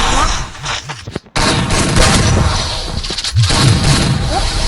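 Loud, close gunfire crackles in rapid bursts and sustained volleys, like automatic weapons, with a brief lull and voices partly under the shooting.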